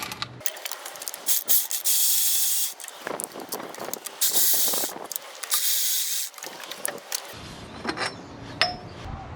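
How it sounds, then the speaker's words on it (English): Removing the thermostat housing on a 2001 Toyota Tacoma during a radiator replacement: bursts of close spraying hiss and ratcheting clicks with small metallic taps and gaps, no talk. "Removing the thermostat housing."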